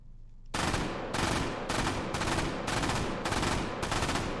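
An MG42 machine gun firing 8mm Mauser in the virtual reality game H3VR, loud and close, in about seven short, rapid bursts separated by brief gaps, with no voice over it.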